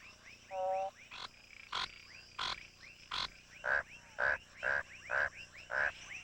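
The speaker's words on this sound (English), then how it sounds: "The frog's croak is not, as ancient peoples believed, the strangled cry of a newborn" Frogs giving mating calls, a chorus of repeated croaks in a steady pulsing rhythm, loud and close, with several overlapping voices and no talk.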